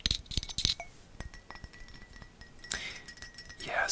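Glass bottles being tapped up close, producing a quick run of bright clinks early on, quieter scattered taps through the middle, and a louder burst of glassy clatter near the end.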